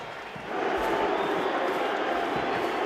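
A packed Sydney stadium crowd roars at the Queensland side taking the field for State of Origin 1982 Game 3, a broad steady wall of cheering and jeers that swells after a brief quieter start.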